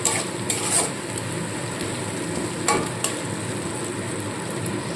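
Masala paste fries with onions in a pan for a rohu fish curry, a close, continuous sizzle. Spatula scrapes and clinks against the pan stand out at the start and again near the middle, with no talking.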